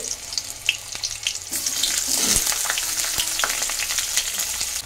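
Onions hit hot oil in a kadai with whole garam masala and green and red chillies, producing a steady close sizzle with a few stirring scrapes, loud and continuous without talk.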